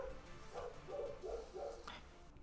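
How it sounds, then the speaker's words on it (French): Dogs bark faintly in the distance, a short run of four or five muffled woofs against quiet indoor background noise. "les chiens qui font de bruit"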